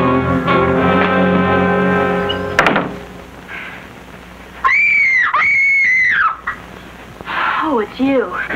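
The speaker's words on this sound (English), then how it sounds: "You screamed and made lots of noise." A woman screams in a 1969 self-defense instructional film, with high, sustained shrieking cries in two long bursts followed by shorter wavering yells, loud and close, preceded by a musical tone and a thump.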